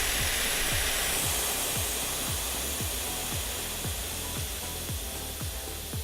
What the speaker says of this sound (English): I can go ahead and open this back up, and then I can bleed the air off from it